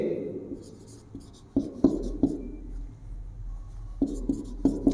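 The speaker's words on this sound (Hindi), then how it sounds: "फॉर्मूले के रूप में हम लोग इसे लिखेंगे" Marker or chalk writing out a formula on a board in an economics class, a few crisp taps and short strokes in quick bursts over low background hum, near and fairly clear, no speech.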